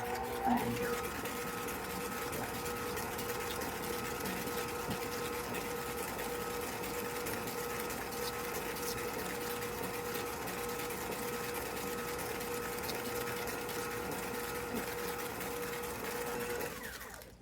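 An electric stand or hand mixer beats a thick batch of oatmeal chocolate chip cookie dough with coconut and pecans, a steady mid-level whirring drone running unbroken from start to finish with no talk over it.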